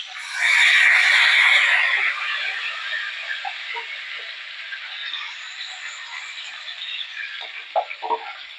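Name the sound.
a little water added to a sizzling pan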